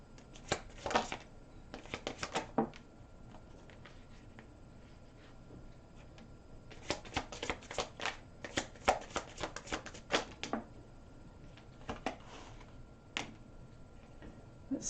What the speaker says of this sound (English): Let's take out more cards for this reading.